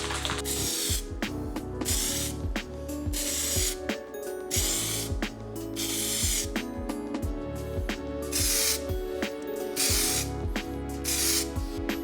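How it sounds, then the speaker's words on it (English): A spray can lays down primer on the body of a wrecked 2018 BMW 330e, in repeated close, loud hissing bursts of a second or two with short pauses between. "About to lay down some primer."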